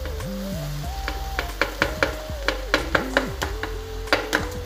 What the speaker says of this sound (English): I'll now be adding the rice.